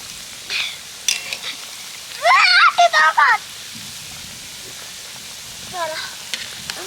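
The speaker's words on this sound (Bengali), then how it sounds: "উল্টে পাল্টে একদম মুচমুচে করে ভেজে নেব" Semolina and potato snacks deep frying in oil until crisp make a steady, moderate hiss and bubble throughout, with a person speaking briefly over it.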